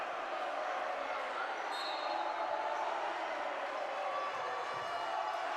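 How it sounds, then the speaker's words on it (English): Sustained roar of a crowd at a high school basketball game between Capitol and Expression Prep, a steady, broad wash of cheering that holds at even loudness throughout without any single voice standing out. "As you see the crowd erupt here"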